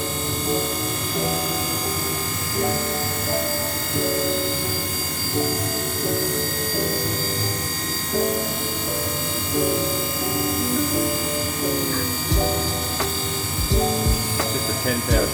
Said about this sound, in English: we're going to put a tiny little chamfer down on the recess ledge there